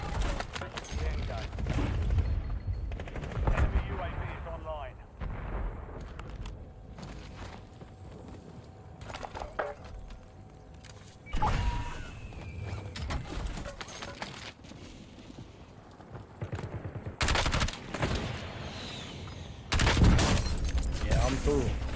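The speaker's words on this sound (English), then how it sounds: "They're fucking shooting from everywhere" Gunfire in the Call of Duty Warzone video game, Rebirth Island map, with bursts and single shots coming from several directions, some near and some distant, mixed with footsteps and game noise, and voices talking over the top.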